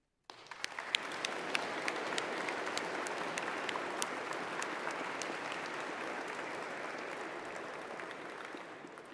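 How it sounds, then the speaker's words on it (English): An audience at a Citadel class ring presentation ceremony breaks into broad, sustained applause that swells quickly and holds steady, with many hands clapping at once and no talk over it. "please rise so we can applaud you"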